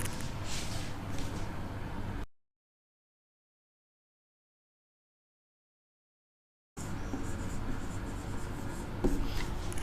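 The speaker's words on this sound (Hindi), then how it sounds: "उसी को मैं लिख रहा हूँ अंग्रेजी में।" Marker or chalk strokes scratching across a board during a thermodynamics lecture, close and steady, broken by a stretch of silence before the writing resumes; no one speaks.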